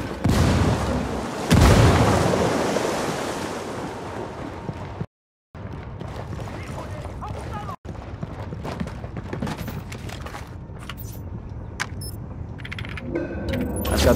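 A frag grenade goes off in the Ghost Recon Wildlands video game with a loud, booming blast that rumbles and decays over a few seconds, followed by a sudden dropout and then scattered lighter impacts and clatter.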